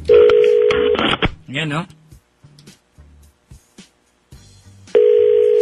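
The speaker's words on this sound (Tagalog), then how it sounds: "Dinadial po natin, mga kapatid." A telephone call being dialed: a steady, loud ringback-style tone at the start, then quieter clicks and short tones, with a brief voice in between, and the same loud steady tone returning at the end.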